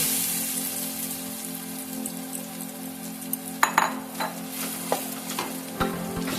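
Ground lentil paste frying in hot oil in a wok gives a steady, close sizzle throughout. Scraping, stirring clatters come in the second half.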